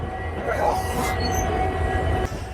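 Train 12821 Howrah–Dhauli Express pulling out of Howrah station, a loud continuous rumble of wheels and carriages with metallic squeals and rattles, heard from on board.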